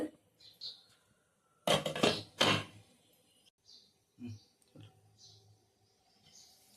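A lid is set onto a pot of mushroom curry with two quick metallic clanks close by, surrounded by quieter kitchen clinks and a person talking.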